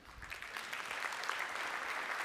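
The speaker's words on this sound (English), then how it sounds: "Let's give a round of applause." Audience applause at a tech industry conference, a steady wash of many hands clapping that holds at moderate level throughout, fairly distant and without voices.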